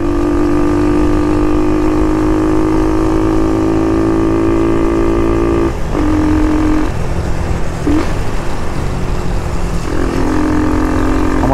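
A small 50cc motorcycle engine drones steadily and loudly close by, its pitch dipping briefly around the middle before picking back up, with a constant hum throughout and no talking.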